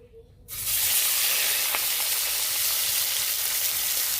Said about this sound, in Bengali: পনিরটাকে ভেজে নেবো এবারটা